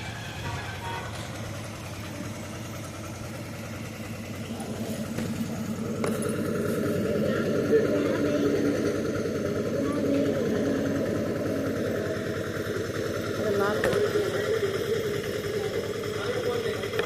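Motorcycle engine idling at an HP petrol station, a steady close mechanical putter that grows a little louder midway, with people talking over it.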